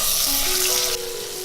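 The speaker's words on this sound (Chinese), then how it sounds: "锅里先加入少许油，把提前剁好的肉末放进来煸香" Pre-chopped minced pork stir-fries in a little oil, giving a loud bright sizzle that drops abruptly in level near the end, with a faint ringing tone underneath.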